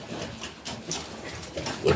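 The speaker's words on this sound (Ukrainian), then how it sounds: "Дуже мені подобаються ці свині." A sow with her litter of piglets on a farm gives short, close grunts in an irregular series, with squeaky piglet noises mixed in, moderately loud and without speech.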